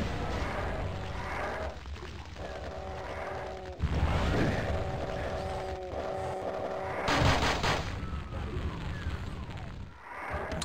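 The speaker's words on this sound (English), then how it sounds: "That is how you plasma gun." Plasma gun blasts in the Doom mod Hideous Destructor, a run of heavy booming shots with tonal electric whine between them and a sharp crack near the end, set among other game sounds.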